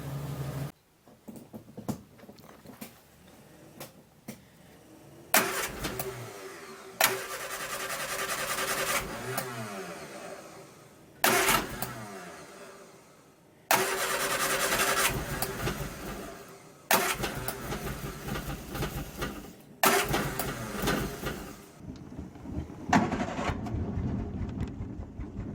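A barn-find Triumph Spitfire, unrun for 43 years, cranks in repeated bursts of several seconds, separated by pauses, with a loud rough churning, then catches briefly and sputters near the end.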